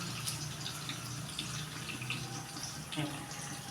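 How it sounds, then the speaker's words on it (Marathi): Water trickles and splashes as grated potato is squeezed by hand, a steady close wet patter running throughout with a brief stronger splash near the end; faint talk is present. "पिळून त्याच्यामध्ये पाणी काढून पीस घालायचं"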